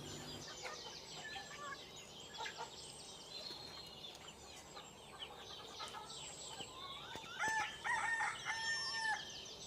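Free-range roosters crow in bright, drawn-out calls, loudest near the end, on a poultry farm in Sangameshwar, Ratnagiri. Hens foraging under a jackfruit tree cluck and cackle around them over a steady outdoor bird chorus.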